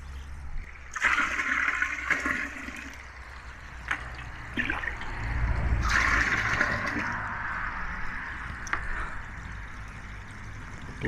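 Water poured and trickling into a container holding a live bighead carp, outdoors beside a pond, with a steady splashing stream that swells and fades, broken by a few sharp knocks.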